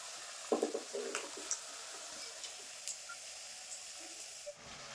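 Potato snacks deep-frying in oil give a steady, close hiss with scattered small crackles and pops, alone without talk.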